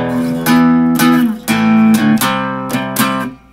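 An electric guitar strums the power chord section of a song, loud, with sharp rhythmic chord attacks and ringing sustained chords changing every half second or so.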